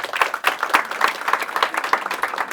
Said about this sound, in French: Eh ben on applaudit Alice s'il vous plaît